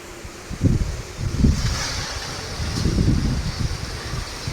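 A strong storm wind blows in gusty, low rumbling surges with a steady windy hiss, swelling in bursts close to the microphone and with no voices.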